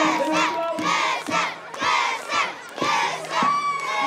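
Crowd at a Sinterklaas parade arrival in Terneuzen shouting and cheering in rhythmic rising waves, many voices including children chanting together in loud repeated bursts.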